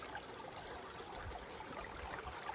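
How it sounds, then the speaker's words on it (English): Water flowing out from Montezuma Well toward Wet Beaver Creek in Arizona, a faint, steady trickling stream with soft continuous burbling outdoors. "This is the water that's coming from the Montezuma well."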